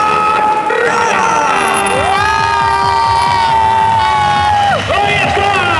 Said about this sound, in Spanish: Aplauso para Arraya.